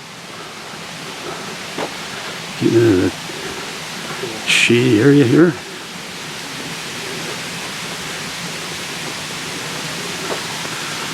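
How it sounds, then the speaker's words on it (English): A waterfall at Governor Dodge State Park gives off a steady, even rush of water throughout, while someone briefly talks over it. "Okay, we're here in the waterfall."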